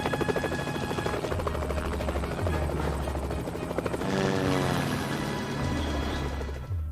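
A police helicopter flies over a swamp, its rotor chopping in a loud, continuous pulse that swells and fades slightly as it passes.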